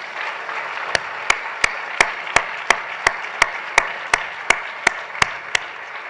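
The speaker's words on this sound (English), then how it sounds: "Give yourselves a round of applause" A dense wash of audience applause fills a hall at a fellowship event with the U.S. ambassador, steady and moderately loud, punctuated by a regular series of sharp, evenly spaced claps standing out above the crowd.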